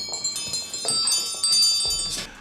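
A small servants' bell in a grand English country house rings in a series of bright, sharp strikes with lingering metallic overtones, fairly close and clear, with no voices.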